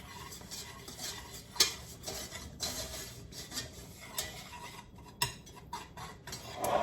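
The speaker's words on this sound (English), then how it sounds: "We'll just keep whisking it." A whisk works flour and butter into a roux in a pan for a turkey dinner, with repeated light metallic scrapes and clinks against the pan at close range, no voices.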